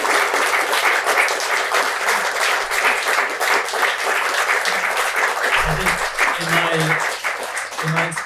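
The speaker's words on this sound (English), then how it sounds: "a round of applause for my amazing panel guests" An audience at a political panel event gives sustained, even applause for the guests, a thick wash of clapping with a few murmuring voices mixed in.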